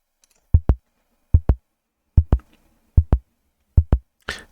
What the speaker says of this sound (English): the LLMs are getting the heartbeat sounds really well